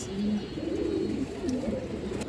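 Large, healthy pigeons of fancy breeds such as silver and green-necked birds coo close by in a low, continuous, rolling murmur that runs the whole time with no talk.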